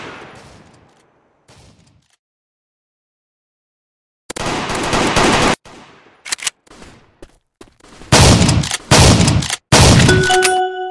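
Gunfire from the video game Gun Game Arms Race: loud bursts of rapid automatic shots and clanging impacts break out after a quiet stretch and come in several clusters toward the end.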